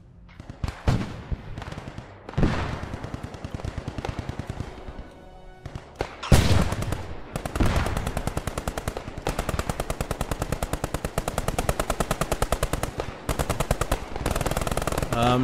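Gunfire rattles through a Post Scriptum battle, with scattered single shots at first and then long, loud machine-gun bursts firing in rapid, steady rhythm under distant battlefield noise.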